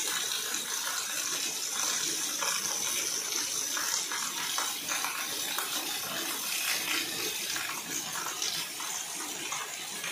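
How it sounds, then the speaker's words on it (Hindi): Heavy downpour at the first rain of the season, with a roadside drain running full: a steady, loud, dense hiss of rain and rushing water that never lets up, with no talking. "बहुत तेज बारिश है।"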